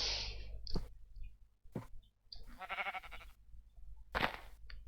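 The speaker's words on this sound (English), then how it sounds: "Sheep." Sheep in a video game give several short, nasal bleats at irregular intervals, separated by clicks and brief quiet gaps, fairly faint overall.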